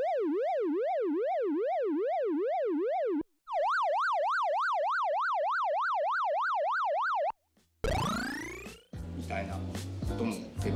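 A Korg minilogue synthesizer plays retro video-game-style tones: two long warbling, siren-like sweeps, then a burst of descending zaps and busy chiptune-like bleeps, loud and alone.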